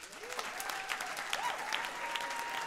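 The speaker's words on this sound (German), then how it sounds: "Wer ist hier alles aus Berlin? Einmal klatschen, bitte." Comedy club audience members from Berlin break into applause, a broad, steady patter of many hands clapping at moderate distance, with faint whoops and voices mixed in.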